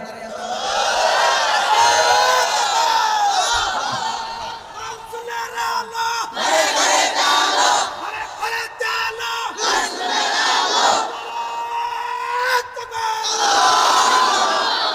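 A large crowd at an Islamic religious gathering shouts a loud Nara-e-Takbir chant in repeated, surging call-and-response waves, the roars rising and falling over about fifteen seconds.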